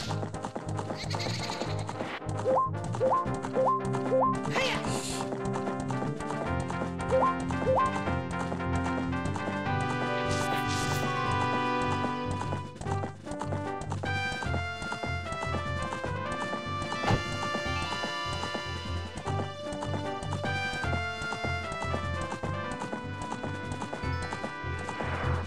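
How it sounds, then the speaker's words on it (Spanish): Hooves of a horse in the video game Zelda Ocarina of Time clip-clop under loud, continuous game music that largely covers them. "justo se me ocurrió parar el caballo"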